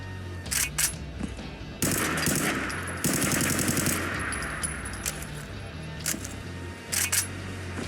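A makeshift .32 SMG in Fallout 4 fires in several rapid automatic bursts, sharp and close, with short pauses between strings of shots and a longer sustained burst in the middle.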